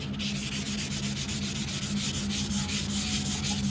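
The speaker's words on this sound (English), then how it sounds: "Yeah, I like the glaze. It sands pretty easy." Glaze body filler on a 2001 Dodge Ram truck part is sanded by hand in a steady, close, continuous rasp with rhythmic strokes and no talk.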